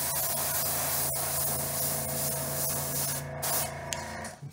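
Light coats of base coat paint sprayed from close range, a steady hissing spray that runs several seconds and then breaks into short bursts near the end. No one speaks.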